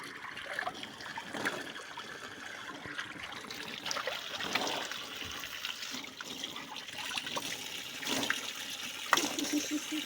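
Cold water running from a tap in a village home while someone washes their face, a steady trickling splash that continues throughout at moderate level with no talk.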